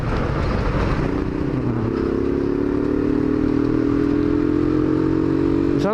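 A motorcycle engine while riding at around 70 to 80 km/h, a steady close-up drone with a tone that climbs gradually as revs build, plus clatter and road noise, with no talk.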